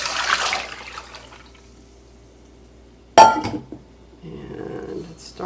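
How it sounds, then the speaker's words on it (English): Excess water poured off in a kitchen while making Tarta de Santiago, a short splashing pour with a clink of cookware after a quiet stretch, followed by softer handling noises. "I'm going to ditch this extra water"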